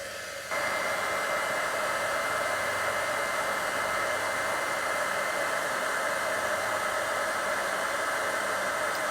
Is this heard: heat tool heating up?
yes